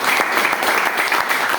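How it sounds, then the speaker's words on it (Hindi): Loud, dense applause from a crowd at a company gathering honouring its founder and CEO, steady and close throughout. "सभी सर के लिए जोरदार ताली"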